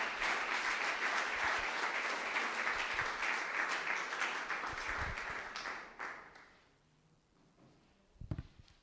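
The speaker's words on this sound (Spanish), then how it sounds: "Vamos a darle un aplauso al Señor por eso." A church congregation at a Spanish-language service in London claps together in dense, sustained applause that holds steady for several seconds, then thins out and fades, with one last brief burst of claps.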